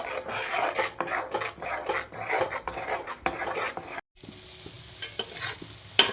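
Pointed gourd paste with salt and turmeric is stirred and scraped in a cooking pan, a close rhythmic rasping and sizzling of spatula strokes that stops briefly before softer scraping and a final clink, with no talking.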